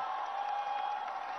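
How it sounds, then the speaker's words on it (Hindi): A large crowd at the Deepotsav lamp festival in Ayodhya on the banks of the Sarayu river gives a brief burst of even, sustained applause, heard somewhat muffled with a faint tone running through it. "जोरदार तालियां होनी चाहिए।"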